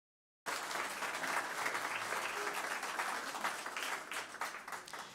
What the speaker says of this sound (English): can you give yourself a round of applause and say thank you for coming tonight to this amazing event